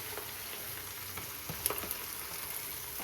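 Spices tempering in hot oil for biryani give a faint, steady frying sizzle with a few soft crackles and stirring clinks.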